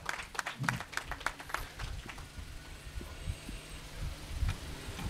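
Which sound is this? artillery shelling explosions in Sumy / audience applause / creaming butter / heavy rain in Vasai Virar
audience applause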